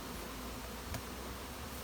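Honeybees buzz at a beehive being calmed with smoke, a faint, steady, close hum with a soft rustle near the middle.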